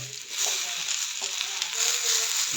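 Carrot, capsicum, tomato and green chillies sizzle in hot oil for upma, a steady bright frying hiss with faint stirring clinks and no talking.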